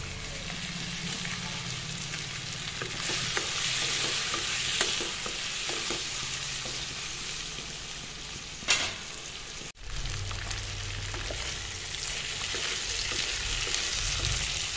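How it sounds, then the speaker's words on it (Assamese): Singhi fish frying in hot oil gives a steady close sizzle throughout, with a brief clatter near the end and a deeper sputter after it. "মাছখিনি এনেদৰে মই ভাজিম 3 মিনিটমান সময়"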